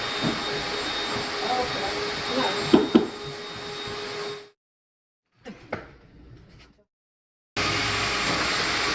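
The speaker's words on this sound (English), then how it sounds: "is vacuuming all the edges and all the floor" Household vacuum cleaner running steadily across a floor during home cleaning, a broad continuous whir that cuts out midway, leaving near-silence with a few faint knocks, then starts up again at full loudness.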